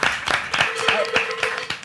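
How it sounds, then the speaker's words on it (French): A small gathering at a fitness group event claps briefly and unevenly, loose individual claps in an irregular rhythm mixed with a voice or two. "on peut applaudir ça en tout cas"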